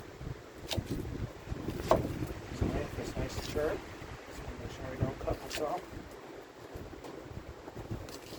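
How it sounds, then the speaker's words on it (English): Gusty wind buffets the microphone outdoors on a cold day, roaring in bursts while someone talks throughout. "I hope you can hear this because it is really windy"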